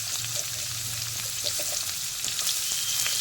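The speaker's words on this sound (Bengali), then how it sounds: "আলু একটু ভালো করে ভাজা ভাজা করে নিয়ে তারপর ক্যাপসিকাম দেবো" Potatoes and onions frying in a pan, a continuous soft sizzle with light stirring clatter, steady and close.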